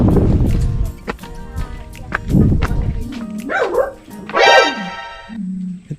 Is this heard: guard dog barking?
yes